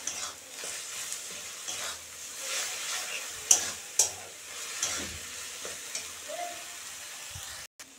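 Loitta (Bombay duck) fish fries in a pan over medium gas while being stirred, a soft continuous sizzle broken by a few scraping stirs and light taps, quiet and close, with no speech.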